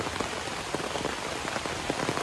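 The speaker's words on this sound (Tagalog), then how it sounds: "Ito na oh, ulan." Rain falls steadily on a farm with vegetable plantings, a dense, close patter of drops striking surfaces with no voices over it.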